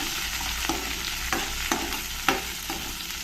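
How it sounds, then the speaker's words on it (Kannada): Onions, green chillies and curry leaves fry in a pan with a steady close sizzle, broken by a few soft spatula scrapes and taps spaced through the stretch; no voices. "ಇದನ್ನು ಒಂದು ಸ್ವಲ್ಪ ಫ್ರೈ ಮಾಡ್ಕೊಳ್ಳೋಣ"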